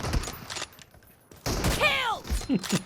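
Gunfire in an online multiplayer shooter game with M24 rifles and pump shotguns: quick bursts of shots, a short quiet gap, then more shots with a falling whistle-like tone, fairly close and loud.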